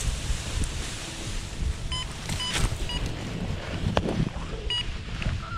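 Wind blowing outdoors at an open launch site, a steady gusty rush with microphone buffeting, fairly loud and constant with a few faint clicks and no voices.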